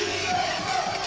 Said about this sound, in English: right now that noise is a resounding boo